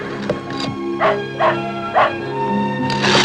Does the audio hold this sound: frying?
no